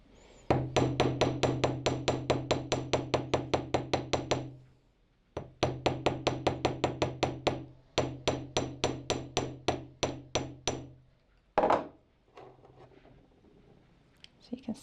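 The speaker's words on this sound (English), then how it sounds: "go over the entire surface lightly with the ball end of the chasing hammer" The ball end of a small chasing hammer taps a metal jewelry tag in quick, even bursts of ringing strikes, two long runs separated by a pause, then a few scattered taps.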